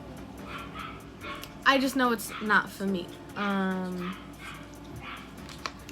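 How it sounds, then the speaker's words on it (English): Pixie, a pet dog, barks and yips in a short burst of sharp, high barks and whimpering yelps close by, while someone speaks briefly over the quiet room. "Ignore Pixie barking. Literally, she's a dog."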